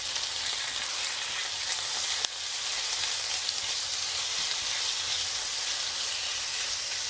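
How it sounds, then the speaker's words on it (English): Steady, dense sizzling and crackling of chicken frying in a hot pan over high heat, loud and close, with a faint clatter a couple of seconds in. "we're going to add the chicken to the pan, and that's what you want to hear, a nice sizzle"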